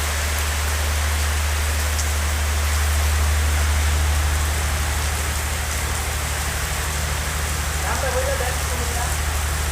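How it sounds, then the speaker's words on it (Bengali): Steady rain falling in Cumilla, Bangladesh, a dense, even hiss with a strong low hum beneath and little variation, while voices talk faintly in the background. "কয় মাস পরে বৃষ্টি নামলো রে?"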